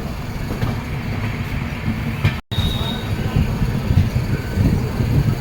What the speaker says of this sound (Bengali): এখন এগোচ্ছে ট্রেন তার গন্তব্যের দিকে